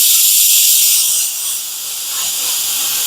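A YesWelder CUT-65DS plasma cutter slices through metal with a loud, steady, close-up hiss that dips slightly midway and then holds strong to the end, with no talking.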